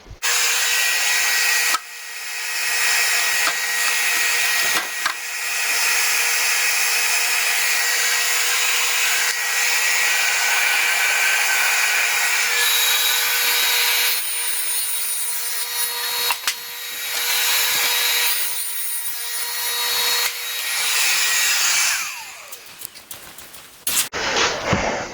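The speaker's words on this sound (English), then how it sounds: "So let's cut that on the table saw." Table saw cutting wood for a mini footlocker: a loud, sustained high whine and rasp of the blade through the board lasting about twenty seconds, with brief dips, then spinning down with light knocks at the end.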